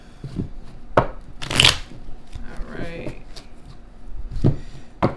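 Tarot cards being shuffled by hand in bursts of riffling and rapid soft slaps, loud and close, with a short spoken word among them.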